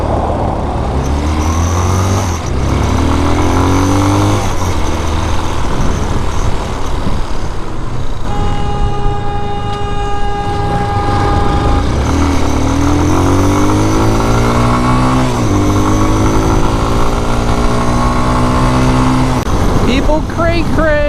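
Hawk DLX motorcycle riding on the road on a flea market trip, its engine droning loud and close with repeated rises and falls in pitch as it shifts and accelerates, steady wind rush throughout.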